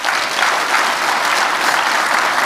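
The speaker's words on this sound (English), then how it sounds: "let's give this group up here a round of applause," An audience at an annual conference welcome and awards presentation gives a loud, dense round of applause that stays even and close throughout.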